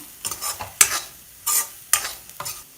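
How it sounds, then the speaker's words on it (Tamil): Masala powder sautéing in hot oil for a bitter gourd curry, heard as a series of short sizzling bursts with stirring scrapes, close and moderately loud with brief pauses between. "இப்போ இந்த மசாலா தூள் வாசனை போகிற அளவுக்கு இது நம்ம நல்லா வதக்கிக்கலாம்"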